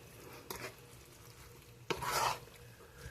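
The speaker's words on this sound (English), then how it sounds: "And then we're just going to mix all this up." Spaghetti casserole ingredients, including a jarred sauce, are stirred together in a dish, two short scraping swishes standing out above a faint background sizzle, with no talking.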